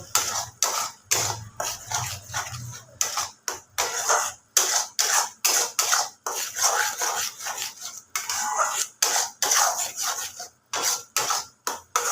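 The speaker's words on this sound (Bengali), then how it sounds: "মশলাটা মানে ফ্যাটানো দইটা আমি এর মধ্যে দিয়ে দিলাম এবার ভালো করে দইটা মিশিয়ে নেব" Whisked sour yogurt being mixed into spice masala in a pan, a steady run of rhythmic scraping strokes from a spoon against the pan, close, with short gaps between strokes and no talking.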